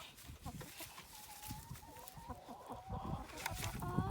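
A flock of hungry backyard chickens clucks and murmurs softly in a farmyard, with scattered short calls and rustling growing busier toward the end.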